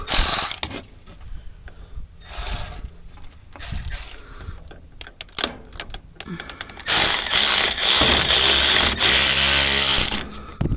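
A ratchet with a swivel tightening a starter bolt on a John Deere, heard as runs of rapid clicking that grow into a long loud stretch of ratcheting, close by.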